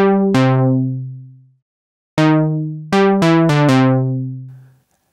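Monark VST monosynth played from a MIDI keyboard: a run of bright, harmonically rich synth notes, a long held tone, a pause, then several quick stabs ending in a sustained note, loud and alone with no talk.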